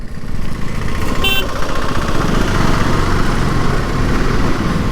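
A motorcycle ridden through city traffic near the Jamshedpur railway station gives a steady loud engine drone with wind rumble and a brief horn-like tone in the middle.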